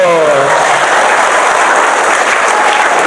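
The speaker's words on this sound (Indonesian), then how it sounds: "Tepuk tangan dulu." A church congregation bursts into dense, loud applause that holds steady throughout, with a voice briefly audible at the very start.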